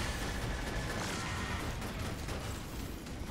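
Cannon fire booms in the 2D space shooter Cryptark as a loud, sustained barrage of crashing, rumbling blasts. The noise runs without a break through the whole stretch and has no voice over it.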